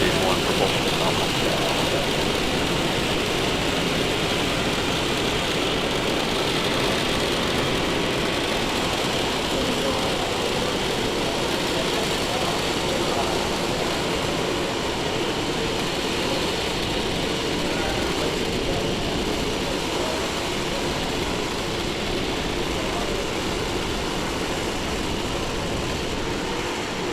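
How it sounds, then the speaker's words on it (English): A SpaceX Falcon 9 carrying Starlink satellites climbs after liftoff, its engines a broad, steady, distant roar that fills the whole stretch without a break, while a voice talks over it. "we have just had liftoff of our Falcon 9 vehicle, taking our Starlink payload to its targeted orbit"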